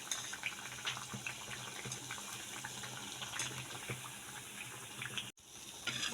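A sweet mixture for an evening snack simmers in a pan on low heat, giving a steady, dense bubbling and frothing hiss that carries on evenly for the whole stretch with only a brief dropout near the end.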